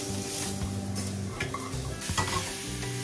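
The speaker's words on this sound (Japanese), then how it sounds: "しっかりと焼き色がついてキノコが炒められたら、一度バットなどに避けます。" Mushrooms stir-frying in a frying pan, with a steady hiss of sizzling oil broken by scraping and clattering as they are stirred and tossed against the metal, loud and close, with no voices.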